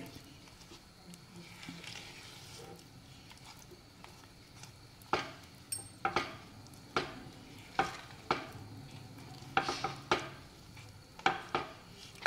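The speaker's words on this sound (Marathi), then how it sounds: "आपण मीडियम गॅसवरच हे मिश्रण व्यवस्थित असं शिजवून घेणार आहे" An amla and sugar mixture cooks in a pan on medium gas with a soft, low bubbling sizzle, broken by a run of sharp spoon scrapes and clinks against the pan.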